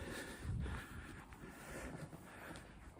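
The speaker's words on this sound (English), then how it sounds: "it is a windy bench" Wind buffets the microphone at a hilltop bench lookout by a castle, a low, rumbling, gusty roar that surges and eases across a few seconds, with no talking.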